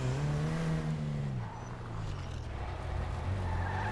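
A sports car engine in GTA 5, the Annis Elegy, drones loudly with a falling tone before settling into a lower rumble and rising again, close and continuous, no talking.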